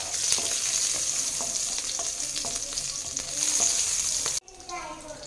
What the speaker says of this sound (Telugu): తురిమిన పచ్చిమిరపకాయలు చూడండి ఎట్లా చిట్టపటలాడుతుందో